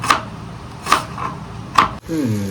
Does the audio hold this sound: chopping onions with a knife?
yes